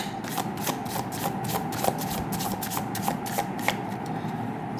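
Tarot cards are shuffled by hand in a steady, rapid riffle of papery flicks and soft slaps, close and continuous throughout with no talking.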